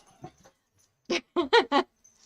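An excited dog in a home whimpers and yips in a quick run of four loud, close cries after some softer earlier whines, with no talking over it.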